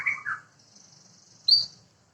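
A canary gives a couple of quick chirps, then a thin sustained high note ending in a brighter trill, close and clear against near silence.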